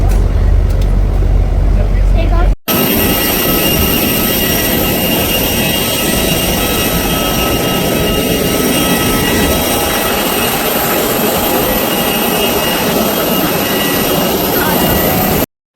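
Loud, continuous roar of jet aircraft engines at Bagdogra Airport, a military airfield in West Bengal, filling the air close by after a brief quieter moment with a faint voice at the start.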